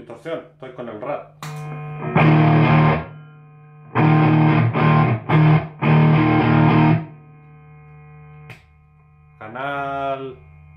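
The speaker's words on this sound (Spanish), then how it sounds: "Con distorsión, estoy con el rat." An electric guitar runs through a Rat distortion pedal into a Fender Bassman and Roland JC-120 amps, ringing out in loud, gritty sustained chords in several bursts separated by pauses, with brief picked notes and a short softer phrase near the end.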